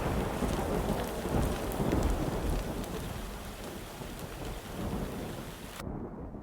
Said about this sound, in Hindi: तभी अचानक आसमान में बिजली चमकती है और तेज बारिश शुरू हो जाती है।